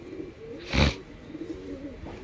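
A female Andhra pigeon gives a single short, fairly close coo, brief and alone against a quiet background murmur.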